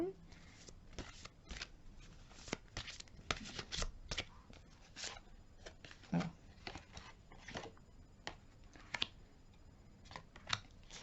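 Tarot cards being shuffled repeatedly, a series of crisp riffling bursts and flicks at close range, with quiet murmuring in the background.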